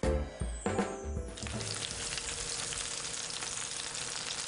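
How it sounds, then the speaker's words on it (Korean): Spring greens sizzle while frying in a pan. A few clattering knocks open the sound, then a steady, close, dense sizzle runs on alone. "지글지글 봄꽃이 맛있게 피어나는 소리가 들리시나요?"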